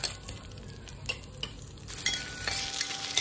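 Raw peanuts roasting in a pan crackle and sizzle close by as a spoon stirs them, with brief scraping bursts that grow brighter toward the end.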